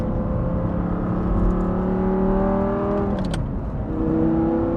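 A 2010 Audi R8 V10 with a gated manual gearbox, heard from the cabin while driving, holds a steady, loud engine drone around 4,000 RPM that swells and shifts pitch as the revs change, with no talking.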